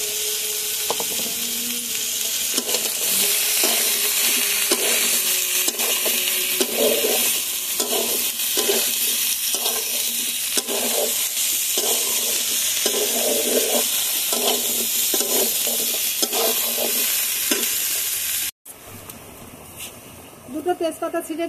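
Slit green chillies fry in hot oil with a steady, close sizzle and rhythmic stirring clatter throughout, a person speaking over it, then the sizzle cuts out near the end.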